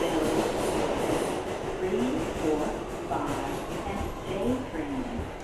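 An R211A subway train on the A line runs between Chambers Street and Fulton Street in New York, giving a steady, loud rumble with rhythmic rail clatter and brief wheel squeals throughout.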